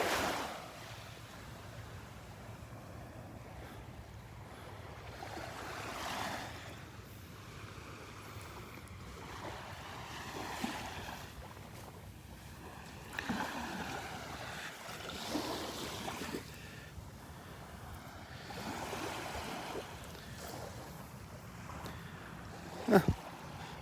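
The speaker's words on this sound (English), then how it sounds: "A little walk on the beach." Soft surf rolls onto the beach at Delnor-Wiggins on a morning walk, a low, continuous wash with gentle surges, mixed with light wind rumble on the microphone.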